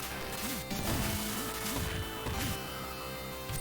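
Genesis Power Rangers the Movie sumo smash attack striking the player: repeated crunchy retro impact hits and bouncing chiptune blips over a busy, loud game soundtrack.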